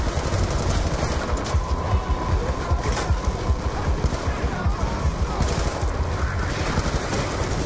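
Rapid, continuous gunfire rattles in bursts, dense and loud, like automatic weapons in Call of Duty: Black Ops 2 on Xbox 360, with faint talk mixed underneath.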